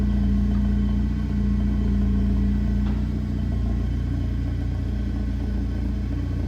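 A turbocharged 5.3 V8 in a fourth-generation Camaro SS no-prep drag build rumbles loudly and steadily up close, a deep continuous engine drone with a faint hum on top and no speech.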